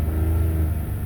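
A 2002 Nissan Maxima GLE's 3.5-liter engine revving to about 3,000 RPM, a loud, close, steady mid-pitched engine roar with strong low hum throughout a brief burst, no voices.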